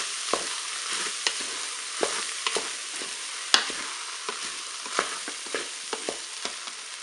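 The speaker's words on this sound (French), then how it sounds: "Je vais maintenant rajouter tout mon riz avec les carottes, les petits pois. Vous mélangez bien tout ça." Rice with carrots and peas for a Cantonese-style shrimp rice is stirred in a Cookeo multicooker, giving a soft sizzle beneath repeated sharp scrapes and taps of the utensil, roughly one or two per second.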